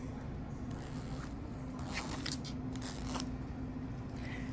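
Zipper on a fleece jacket being pulled down, a few short rasping zips and scrapes over a steady low hum.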